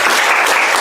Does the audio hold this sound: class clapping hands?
yes